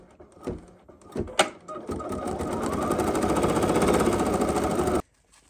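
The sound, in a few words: embroidery machine stitching with white thread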